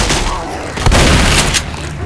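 Rapid pistol gunfire in Left 4 Dead comes as loud, close bursts of cracking shots packed together, with a sharper blast about a second in, over dense game noise.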